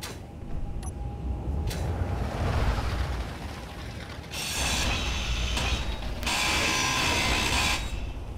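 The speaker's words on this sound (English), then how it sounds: "I'm gonna grind that open." Grinder tool cutting open a block in the video game Space Engineers, a loud continuous mechanical grinding and rattling with bright metallic bursts that swell and fade in two long stretches, no talking.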